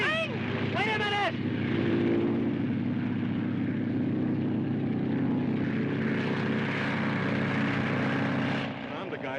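A 1930s propeller airplane roars steadily at full power for takeoff, a loud, droning engine note with rising tones at the start, constant and close throughout.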